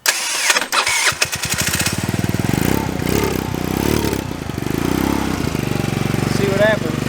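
A 50cc GY6 scooter engine cranks with rapid starter pulses, catches, and settles into a close, buzzy, loud idle with small fluctuations in pitch throughout.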